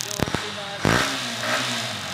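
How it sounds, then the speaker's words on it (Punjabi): A 2019 model motorcycle at a used bike market: a few starter clicks, then the engine catches with a loud bark and settles into a steady rumbling idle, with a voice speaking over it. "ਬਾਈਕ ਦੀ ਆਵਾਜ਼ ਕਾਫੀ ਜ਼ਿਆਦਾ ਲਾਊਡ ਆ"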